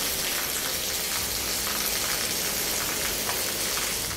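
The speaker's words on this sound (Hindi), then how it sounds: "गुलबर्ग, जेल रोड, शेरपाव पुल, किनार रोड समेत दीगर इलाकों में तेज बारिश हुई" Heavy rain pours down steadily in Lahore, a dense, loud, unbroken hiss of downpour striking surfaces with no pauses.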